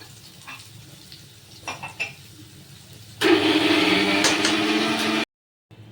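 Potatoes frying in oil for aloo dum, a loud steady sizzle that starts abruptly midway and holds for about two seconds before cutting off, preceded by quieter kitchen clinks.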